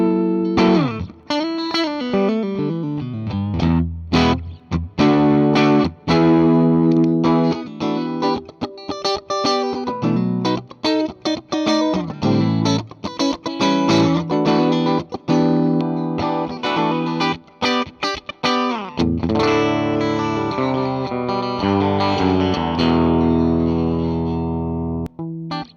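A Les Paul electric guitar played through its coil-tapped pickups rings out alone in a continuous run of bright, attacking chords and notes with effects, shifting through changes for about 26 seconds.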